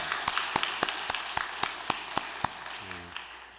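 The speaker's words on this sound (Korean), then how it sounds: "우리 다 함께 우리 영광의 박수 한번 돌려드리겠습니다." A church congregation at a Wednesday service claps together in a slow, even rhythm of about nine beats, moderately soft and close, followed by a brief faint tone near the end.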